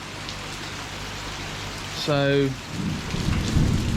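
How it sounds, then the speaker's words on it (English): Steady rain falls by an outdoor koi pond, a constant close hiss of drops spattering on surfaces, with a single brief spoken word partway through. "as you can see it is raining"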